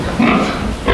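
Ten-day-old piglets in a barn grunting at close range, a loud, rough, continuous huffing and oinking that swells twice within a second.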